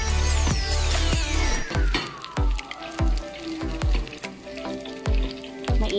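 Garlic sautés in a hot pan for a Lebanese vegetable dish, sizzling steadily while a utensil scrapes and knocks against the pan in regular strokes, with a thin falling whistle tone in the background.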